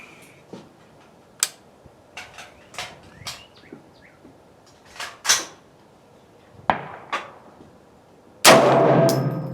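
Shots from a Bear Creek Arsenal .450 Bushmaster rifle ring out on an outdoor range as sharp, distant cracks, scattered with clanks, ending in one loud close blast near the end.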